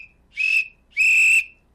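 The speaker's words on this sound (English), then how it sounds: "I'm going to blow the whistle" A coach's whistle is blown twice at close range, first a short shrill blast and then a longer steady one, with no other sound around it.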